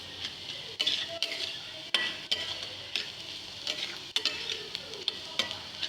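Carrot curry being stirred in a hot pan over low flame, with a steady soft sizzle and repeated scraping and clinking strokes of a spoon against the pan at an irregular rhythm, close up and with no voices.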